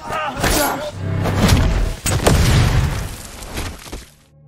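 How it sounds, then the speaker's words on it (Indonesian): A loud, rumbling landmine blast with crackling debris and thuds rolls on for several seconds amid a noisy, chaotic scene, then fades out abruptly. "suara ledakan bom ranjau mengundang perhatian tentara Jepang lainnya"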